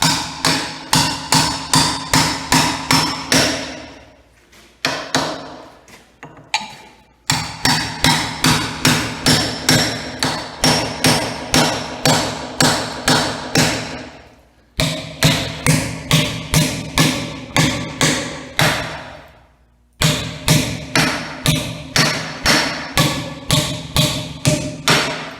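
A chisel is struck by a hammer on the old jailhouse back door in Jefferson, SC: loud, close, rapid runs of metallic blows broken by short pauses, with no talk.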